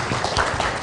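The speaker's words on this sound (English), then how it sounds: "can we give Sam another round of applause" Audience applause at a tourism expo session on sustainable financing, heard as a brief, steady burst of dense clapping that fills the room without any talk.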